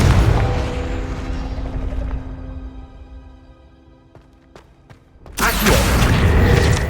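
A Confringo blasting spell going off in Hogwarts Legacy, a deep rumbling boom that slowly fades, a few sharp crackles, then a sudden loud burst of roaring noise.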